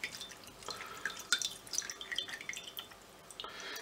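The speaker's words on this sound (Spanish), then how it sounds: "lo que vamos a hacer es escurrir las hojas de gelatina" Water drips and trickles as soaked gelatin sheets are drained by hand for a lemon cheesecake, a few quiet, scattered droplets close by with no talk.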